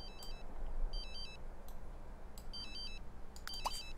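A cell phone rings in The Sims 3 video game with a repeating electronic ringtone in short bursts at about one-and-a-half-second intervals. The ringing is faint and plays over quiet background game sound.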